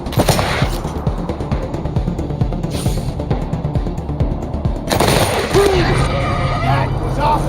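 Gunfire and explosions from the video game Wasteland 3 keep up a dense, loud, continuous barrage of bangs and crackling, with voices mixed in under the din.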